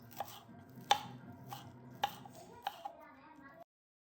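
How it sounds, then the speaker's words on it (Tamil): A knife chops banana flowers on a board in a home kitchen, with five or six crisp, separate strikes at an uneven pace, close and clear, over a faint low background before stopping abruptly. "இந்த மாரி கரெக்ட்டா அரேஞ்ச் பண்ணி வச்சு நான் கட் பண்ணிக்கிறேன்"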